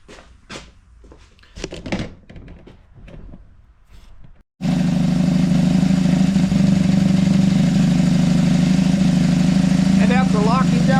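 A motorcycle with synchronized carburetors is restarted and settles into a loud, steady idle. Someone talks briefly before the engine fires, and a few faint squeaks sound over the idle near the end.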